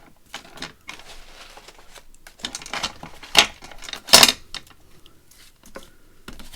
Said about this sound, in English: Let's cut the corners off.